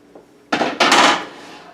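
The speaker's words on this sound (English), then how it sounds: "Let's get rid of this cutting board." A wooden cutting board lifted and set down in a kitchen, two quick clattering knocks close by, the second a longer scrape-and-rattle that fades out.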